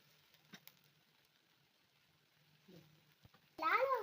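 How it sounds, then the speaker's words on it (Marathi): Mustard seeds drop into hot oil for an onion chutney, setting off a sudden loud crackling sizzle near the end after a quiet stretch with faint movement. "आता 1 चम्मच मोहरी टाकूया."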